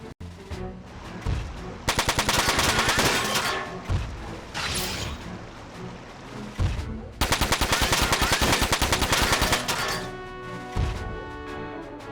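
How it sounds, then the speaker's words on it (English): Heavy in-game gunfire from a large weapon in the PS2 mecha strategy game Front Mission 4, loud rapid automatic bursts in two long volleys separated by rumbling impacts and explosions, with no talking. "Let's use the bigger gun here."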